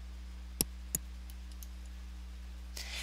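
Two sharp computer mouse clicks come close together as the Upload button is pressed, followed by a few faint ticks over a low steady electrical hum and a soft rustle at the end.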